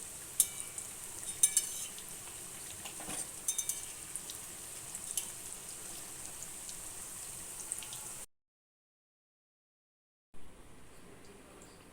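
Soybean muitha frying in oil in a pan gives a steady, fairly quiet hiss and sizzle with a few soft clinks, then a short break before the frying resumes.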